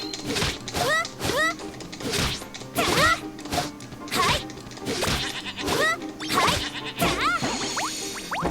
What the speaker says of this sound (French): Ah, les moutons noirs.